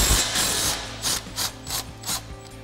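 An impact wrench with a 17mm socket removes a sway bar end link nut on a Toyota Tacoma, starting with a sustained whir and then giving several short, evenly spaced rattling bursts, close and clear without talk.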